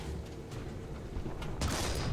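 A Hetzer tank destroyer's shell strikes a target in a video game, a sharp broadband impact burst near the end following low rumbling battle ambience.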